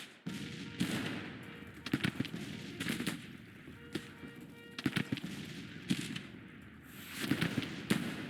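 Civil War battle gunfire in the Grand Tactician strategy game, with sharp bursts of rifle volleys and single shots cracking at irregular intervals over a rumbling battlefield din, some near and some far.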